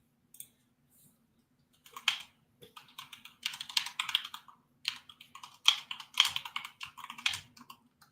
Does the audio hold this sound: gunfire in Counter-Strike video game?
no